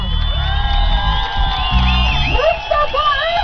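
Festival audience in Çıldır, Ardahan, a steady loud crowd noise with whoops and cheering rising from the mass, carrying on without pause alongside tonal music-like lines.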